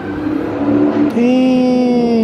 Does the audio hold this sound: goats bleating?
no